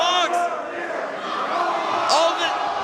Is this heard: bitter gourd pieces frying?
no